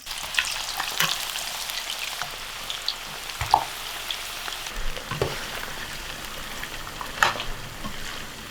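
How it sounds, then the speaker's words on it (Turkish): Carrot and tomato pieces frying in hot oil, a steady close sizzle with occasional louder pops and crackles throughout, no talk. "Domatesli havucu böyle yarı pişmiş olacak şekilde bir yağdan geçireceğim."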